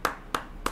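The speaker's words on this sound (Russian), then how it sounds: "Просто аплодисменты." Three single, sharp hand claps sound in a slow, even rhythm, each one crisp and close.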